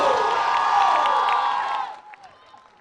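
Arena crowd at an international wrestling match cheering and clapping for the US champion, a loud sustained roar with whoops and a ringing tone that fades after two seconds into scattered noise.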